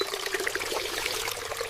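Thin stream of water trickling and splashing steadily through a miniature doll village model, a quiet continuous pour with no voices.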